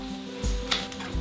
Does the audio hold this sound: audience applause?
no